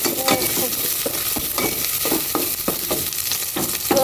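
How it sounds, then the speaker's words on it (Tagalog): Garlic and onion sauté in a hot pan with a steady, close sizzle, broken by repeated scraping and clattering stirring strokes. "Igisa ko na po itong bawang."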